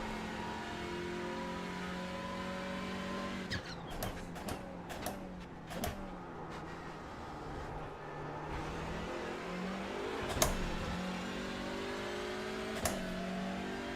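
TCR touring race cars battling at Snetterton, heard as a steady engine drone with shifting pitch, likely from onboard, and several sharp knocks and clatters scattered through it. No one speaks.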